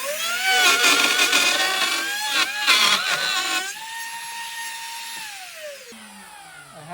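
Plunge router cutting through a template into the floor of a wooden punt, a high whining motor with harsh chattering cutting bursts, then a steady spin-down whine as the bit slows and the motor winds off.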